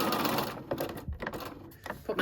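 A sewing machine runs in short bursts while stitching the tie of a McCall's 8358 wrap dress, its close mechanical whirr mixed with a person talking over it.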